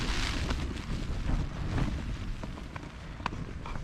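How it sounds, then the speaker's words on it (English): Strong storm wind on a cliff-top campsite in heavy rain, a continuous loud rushing and buffeting against the microphone with faint scattered knocks. "the wind is just, I have no idea what direction it's coming from"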